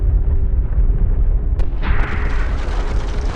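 The Tsar Bomba, a nuclear bomb with a yield of over 50 million tons of TNT, detonates as a deep, loud rumbling roar. A sharp crack cuts through midway, then the rumble rolls on without any talk.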